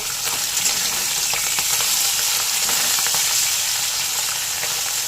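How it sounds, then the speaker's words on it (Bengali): Small mourala fish fry hard in mustard oil in a kadai, with a dense, continuous close-up sizzle and crackle and faint stirring clicks, no voices. "মাছগুলোকে আমি একটু কড়া করে ভাজবো"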